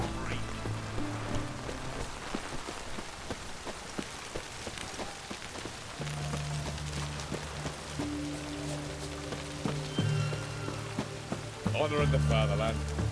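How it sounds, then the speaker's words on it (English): Rain falls in the Witcher 3 video game world as a steady, broad patter and hiss, with a voice speaking and low music tones underneath. "Looks like rain."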